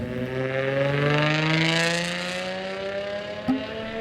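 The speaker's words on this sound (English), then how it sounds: "Sports exhaust, it sounds like this." A V12 car's sports exhaust revs with a rising, smooth multi-tone note that holds then eases off, ending with a quick blip.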